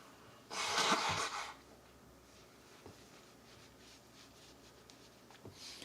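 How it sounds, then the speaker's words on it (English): A single person blows their nose once outdoors at a barbecue lunch gathering, a loud, breathy burst lasting about a second, then quiet background with faint ambient noise. "I had to blow my nose."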